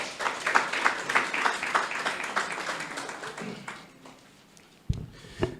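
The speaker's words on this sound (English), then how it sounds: "Please give him a warm round of applause." An audience applauding a speaker's introduction at a public education event: brisk, moderately loud clapping from a crowd that thins and fades out, followed by a couple of isolated knocks.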